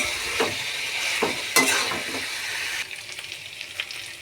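Meat koftas and softened onions fry in a pan, a close sizzling hiss with a few scraping stirs and a sharp spatter, easing to a quieter sizzle near the end.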